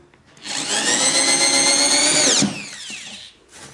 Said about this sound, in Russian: Так, просверлим только доску, но не лагу.